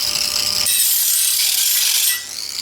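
A light-duty, battery-powered grinder takes burrs off an ingot mold, giving a harsh, steady, high grinding hiss at close range that shifts in tone partway through and eases near the end.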